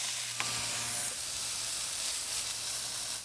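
Chuck steak sears in beef tallow on a Ninja Woodfire grill, giving a steady close sizzle and hiss with a low hum beneath and one brief click near the start.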